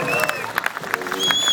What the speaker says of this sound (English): If that ain't worth a round of applause, I don't know what is it